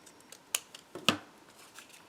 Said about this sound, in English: So let me just go ahead and cut this now.